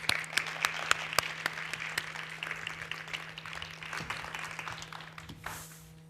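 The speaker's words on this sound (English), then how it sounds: "Oh, applause." Applause from a conference audience welcoming a panel onstage at a forum, scattered distinct claps building into steady clapping in a hall over a low hum, then tapering off after about five seconds.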